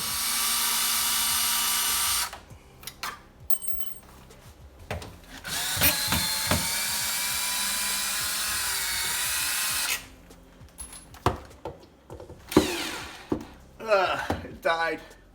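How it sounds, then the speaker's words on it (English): A power drill unscrews a microwave bracket from a wall. It whirs loudly in several bursts of a few seconds each, with clicks and clunks of the bracket in between, and someone speaks during the pauses. "So we need to take this bracket off, unscrew it off the wall, and we need to put this one on."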